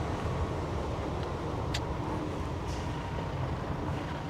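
Car driving along a road, a steady broadband engine and road rumble filling the clip, with a brief hiss like an air brake partway through; no one speaks.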